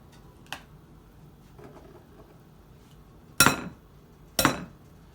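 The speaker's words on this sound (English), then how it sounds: "First, I'm going to crack my eggs." Eggs cracked into a bowl while making crunchy fried chicken: two sharp, close cracking knocks land about a second apart, with a fainter tap earlier, over a quiet kitchen.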